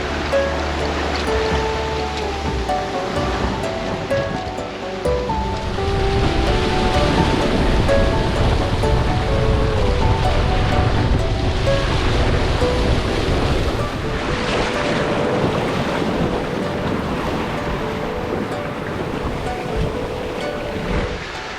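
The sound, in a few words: strong wind while sailing in the Ionian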